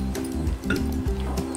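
Poori dough is kneaded firmly by hand, giving close, soft squishing and pressing sounds in a steady rhythm over a low background hum.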